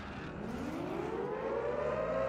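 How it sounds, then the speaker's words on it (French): A bounty hunt siren in the video game Warzone wails upward in a slow rising tone, steady and droning over a low rumble, growing gradually louder. "on entend la sirène. La sirène de la chasse."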